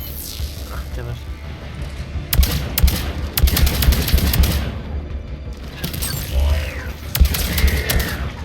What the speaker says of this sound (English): this is actually a really nice SMG